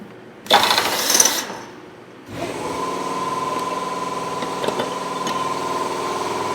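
A CNC mill running a half-inch tap in a tension-compression tap head, with a loud burst early on, then a steady whine with a sustained tone and light intermittent clicks.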